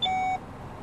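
A single short electronic beep from the rear parking sensor of a Hyundai i20 on engaging reverse with nothing behind, a clean tone lasting about a third of a second and then silence.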